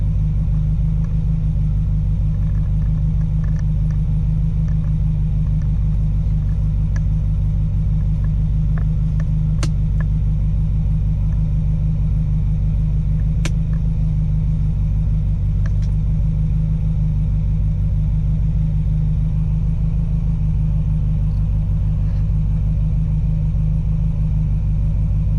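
A classic Ferrari engine idles after a cold start without choke, warming up as a steady, loud low rumble that runs the whole stretch, with a few faint clicks and knocks on top.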